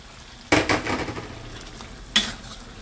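Dutch onions and bird's eye chillies hitting hot oil in a pan for sambal telur, a loud burst of sizzling that fades, followed by a second sharp sizzle as more is stirred in.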